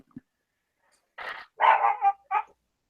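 A dog named Donka barks indoors in three short, fairly loud bursts, the second the longest, separated by brief pauses, with no talk over it.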